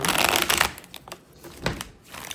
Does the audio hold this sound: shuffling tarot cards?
yes